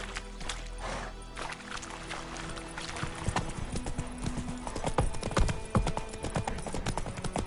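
Roach the horse trotting in The Witcher 3, a rapid clip-clop of hooves that grows louder and busier toward the end, with faint game ambience and music underneath.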